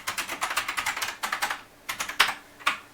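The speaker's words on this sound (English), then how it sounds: "if I type Google Gobble" Computer keyboard typing, close and crisp, with bursts of rapid keystrokes separated by short pauses and a few louder single key hits at the end.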